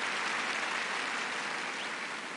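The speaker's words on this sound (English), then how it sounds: "let's make some applause or something." Steady crowd applause sound effect from RPG Maker VX Ace, a dense even wash of clapping that holds at the same level throughout with no voices.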